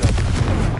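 An explosive spell in the video game Hogwarts Legacy: a short, loud, dense boom of less than a second, close and heavy with low rumble.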